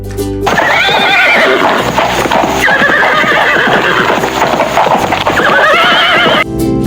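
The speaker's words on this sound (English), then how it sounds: "Horse." A horse neighs loudly and close up, a long shaky whinny that rises and falls, followed by further whinnies over steady hoof and stamping noise, filling nearly the whole clip.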